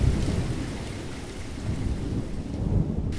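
Thunder rumbles through a summer storm with steady rain, a deep rolling low roar that swells and fades over the downpour, loud and with no voices.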